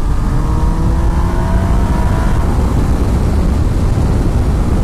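A Yamaha Niken leaning three-wheeled motorcycle on a test ride at highway speed: a loud, steady engine drone blended with heavy wind rush, unbroken throughout.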